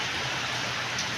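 Heavy rain pours down hard and close, a dense unbroken roar of water striking surfaces that stays loud and steady from start to finish.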